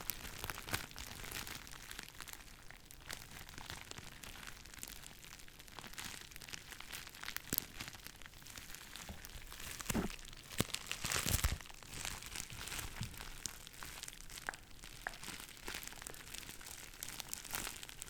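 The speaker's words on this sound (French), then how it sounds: "Le papier bulle est assez sensible, tu le touches à peine, ça fait plein de bruit." Bubble wrap being handled at very close range, giving a continuous crinkling and rustling texture over eighteen seconds with scattered louder crackles and a few sharp pops, no talking.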